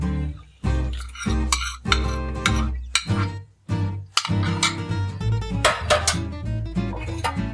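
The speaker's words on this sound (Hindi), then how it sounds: "मैं थोड़ा सा इसको चलाती हूँ, मिक्स करती हूँ थोड़ा सा मैं इसको।" Spices, garlic and ginger being stirred into a lamb curry in a pot, with a spoon scraping and clinking against the pan in uneven bursts, close and fairly loud, with no talk.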